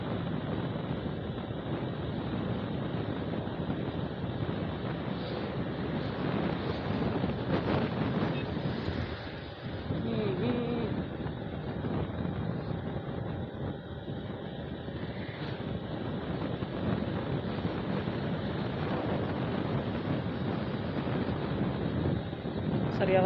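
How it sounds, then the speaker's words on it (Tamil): Strong wind blows across an elevated main highway beside open water or irrigated land, a steady, moderately loud roar with microphone buffeting that persists with only a brief lull midway. "செம்ம காத்தடிக்குதுங்க."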